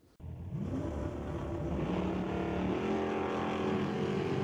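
Drag race cars launching together on green lights at Mission Raceway Park, a sudden loud engine roar that kicks in after a brief quiet and holds strong and rising, close by.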